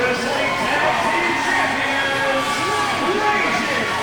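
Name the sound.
crowd cheering at wrestling event entrance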